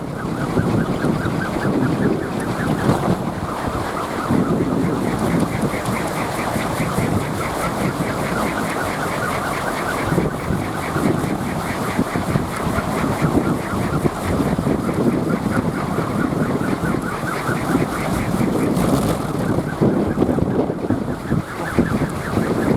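A strong wind gusts over a kolecer, a spinning windmill toy mounted on a tall pole. The roar and rumble of the wind fills about twenty seconds without a pause, with a steady, fast whirring running underneath it.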